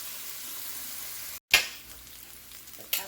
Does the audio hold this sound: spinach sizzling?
yes